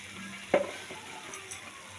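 Ghee goes into a pan of palak chicken and gives a brief, quiet sizzle with a sharp tap as it hits, then soft frying hiss.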